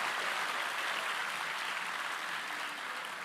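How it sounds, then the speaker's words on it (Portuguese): A church congregation applauds in a continuous, dense round of clapping that stays loud and even throughout. "Queria pedir à igreja que desse uma salva de palmas a essas pessoas"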